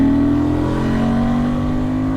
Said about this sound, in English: Now its Africa Twin engine note is, oh, it growls, it's spot on